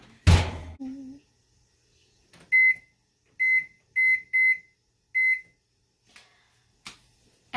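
An oven door thuds shut as croissants go in, followed by a run of short, bright electronic beeps from the oven's keypad, spaced apart in a quiet kitchen, with a few soft clicks after.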